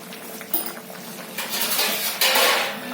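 Metal lid set onto a pot of mixed vegetables, a clink and rattle of metal on metal followed by a louder clatter and brief hiss, close and with no talk.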